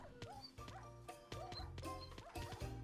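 Several dogs barking and yipping in a Minecraft game, short overlapping barks repeating in quick bursts with a few whimpers, moderately close, alongside other game sounds.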